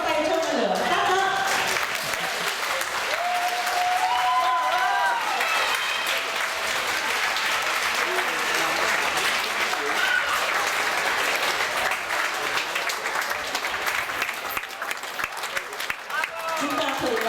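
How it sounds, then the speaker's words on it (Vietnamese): Sustained crowd applause at an outdoor freedom torch ceremony in Geneva, Switzerland, dense clapping from many people holding steady throughout, with scattered voices and cheers mixed in. "Xin cho một tràng pháo tay cho lửa tắt đó."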